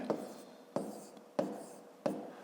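Numbers are written out by hand for a fifth-grade multiplication exercise, heard as four evenly spaced, close, sharp strokes, each trailing into a short, soft scratch.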